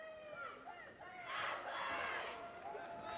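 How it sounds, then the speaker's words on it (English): A girls basketball team lets out a short burst of shouting and cheering as it breaks from a timeout huddle in a school gym, fairly faint and distant. "The biggest cheer of the night from the team as they break the huddle from the timeout."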